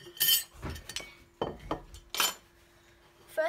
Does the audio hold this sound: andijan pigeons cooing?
no